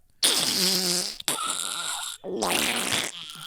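A person vocally imitates a wet fart, producing loud, sputtering bursts in three close segments with brief gaps between them and no speech over it.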